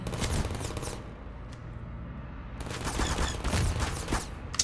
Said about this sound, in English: So it's 3 explosions, I believe.